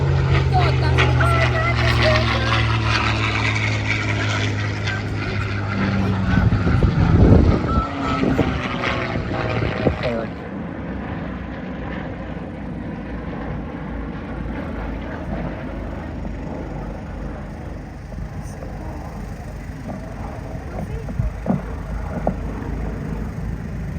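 A P-51 Mustang with a Merlin engine drones loudly overhead at an airshow, a sustained rumbling roar that shifts in pitch as it passes, then fades under a commentator's voice.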